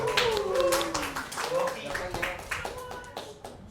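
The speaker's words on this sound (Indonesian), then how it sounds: "Boleh kita kasih aplaus dulu buat Zakwan." A short round of scattered applause for Zakwan in a physics lecture class, light claps mixed in under a person speaking.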